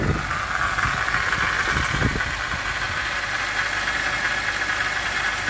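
Engine of a 2006 Pontiac Grand Prix running steadily at idle with a noisy transmission, a continuous close mechanical drone with faint knocking and a whining hiss and no voices.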